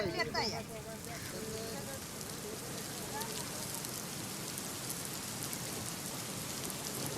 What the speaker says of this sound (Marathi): कोल्हापुरात मुसळधार पाऊस कोसळतोय